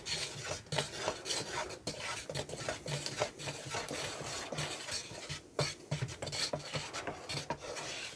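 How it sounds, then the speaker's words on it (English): A tool stirs wood finish and scrapes the bottom of the can in steady, close rasping strokes, rubbing repeatedly with a gritty texture and no talk. "And always scrape the bottom, put it at an angle and scrape the bottom."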